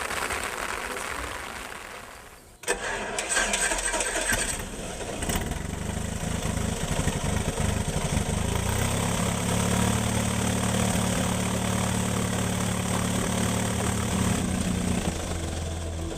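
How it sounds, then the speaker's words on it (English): A small aircraft engine cranks, catches and settles into a steady loud idle after its spark plugs were cleaned, following a brief quiet moment and a sharp start-up burst. "So we'll clean that up and put it back, and our engine will run fine again"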